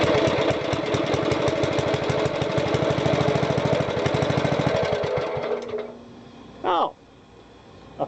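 A Wisconsin engine on a genset running with the throttle raised, a rapid rhythmic chugging and knocking that cuts out near 5.5 seconds, followed by a brief squeal and quiet.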